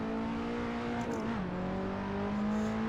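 A race car engine drones in second gear in Assetto Corsa VR, a steady buzzing tone with a brief pitch dip partway through as revs drop and settle, continuous and close.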